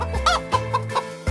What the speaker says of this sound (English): Little chicken.